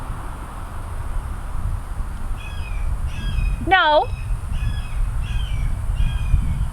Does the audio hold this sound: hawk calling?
yes